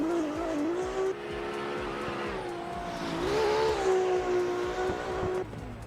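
A Mazda RX-7 race car drifts in a racing game, its engine wailing at high revs with rising and falling pitch over constant tire noise, loud and close throughout.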